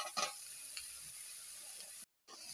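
Eggplant pieces frying in hot oil with cumin, chili, fennel and a little onion, a steady soft sizzle with brief stirring scrapes, fairly faint and alone.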